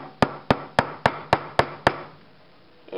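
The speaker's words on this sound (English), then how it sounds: "beat it with the hammer until it comes out" A hammer strikes a skateboard axle to knock out a bearing, seven sharp metallic blows in an even, quick rhythm, loud and close, then a quiet pause.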